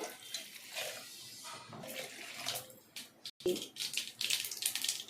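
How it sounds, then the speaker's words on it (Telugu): Rasam poured into a pan holding tempered mustard seeds and curry leaves, a steady liquid splashing and gushing with a short break partway through, fairly close and with no talk. "రసం, కూడా వేస్తున్నానండి"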